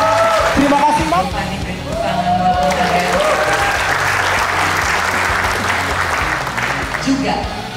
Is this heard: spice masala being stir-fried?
no